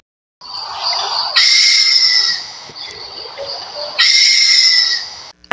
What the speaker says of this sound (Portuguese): É o pica-pau bufador.